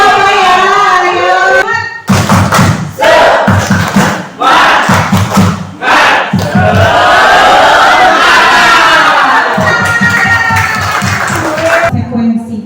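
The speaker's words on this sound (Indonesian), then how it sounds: "Ayo kita tepuk semangat ya Ibu Bapak ya." A group of teachers at a school training session performs a rhythmic clapping spirit chant, loud, close thumping claps in bursts mixed with shouted crowd voices.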